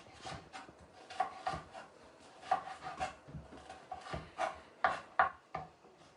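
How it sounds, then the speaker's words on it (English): Leftover carrots being cut up on a board at home, a series of irregular soft chopping knocks and scrapes at close range, fairly quiet with no talk. "I'm gonna cut up this leftover carrots"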